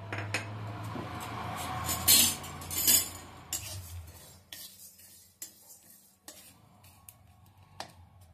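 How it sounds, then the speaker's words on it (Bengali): Dried red chilli, fenugreek, cloves, cumin and coriander seeds dry roasting in an empty wok, with metallic stirring clinks and scrapes, louder at first then thinning to sparse taps. "এগুলোকে আমি ভেজে নিচ্ছি শুকনো কড়াইয়ে।"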